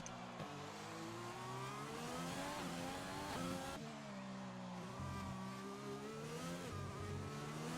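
A McLaren Formula 1 car in the F1 2020 racing game drives through the final turn of the Mexico GP circuit. Its engine note rises and falls through the corner, with a steady loud whine that has no pauses.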